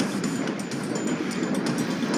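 A toy Thomas the Tank Engine steam train pulls its carriages along the track, a continuous close rumbling clatter of wheels on rails that holds steady throughout, with no voices.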